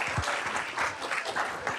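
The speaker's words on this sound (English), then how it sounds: "All right, let's give him a round of applause." A round of applause rises at a school board business meeting, a room of people clapping steadily for the full stretch at moderate volume, with a faint voice or two underneath.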